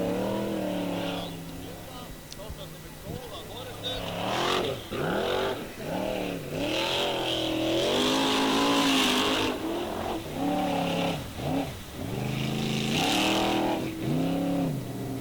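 A Formula Offroad racing car engine revs hard, the pitch repeatedly sweeping up and down as it climbs and turns around a big tire with locked axles, loud and continuous for the whole stretch, with commentary faintly underneath.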